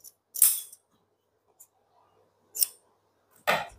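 Scissors snipping off extra fabric while stitching a bra-cut blouse, three or four short, crisp close-up cuts separated by quiet pauses.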